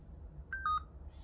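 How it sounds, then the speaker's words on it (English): A Lenovo ThinkPad X130e laptop gives a quiet charging beep, two short electronic tones in quick succession, the second slightly lower, against faint background hiss. "the charging beep is a bit of a lower pitch compared to the X201 T400"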